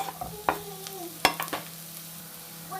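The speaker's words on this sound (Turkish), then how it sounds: "Soğanlarımızı öldürdükten sonra sarımsağımızı ekliyoruz." Onions and garlic sizzle softly in a pan for creamy mussels while a utensil stirs them, giving a faint frying hiss broken by a few sharp scraping clinks.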